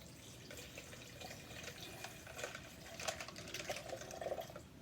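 Water is poured into a container, a faint, steady trickling and splashing with brighter gurgles toward the end, heard alone without talk.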